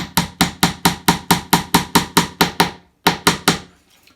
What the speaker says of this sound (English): So I like to use the pin hammer over the pin pusher.